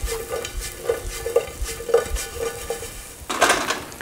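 Andouille sausage browns in a pan for a Cajun dish, a light sizzle under repeated clinks and scrapes of a utensil stirring, ending in a louder burst of frying and stirring.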